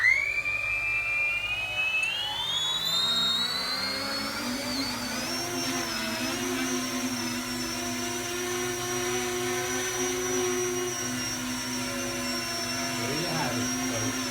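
E-flite Convergence RC aircraft electric motors whine steadily through a maiden flight, pitch rising sharply at takeoff then holding a loud, continuous buzzing drone with slight wavering.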